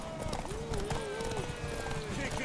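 Galloping horse hooves during a horse race in The Witcher 3, a steady clip-clop under continuous game music and background voices.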